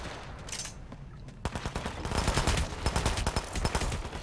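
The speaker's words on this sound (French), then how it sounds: "le mec il a tiré sur son pote quoi" Rapid gunfire from a stealth assassination game set at a farmhouse, rattling in dense bursts that start after a distant explosion-like thump and quiet stretch, then continue as a steady, loud volley.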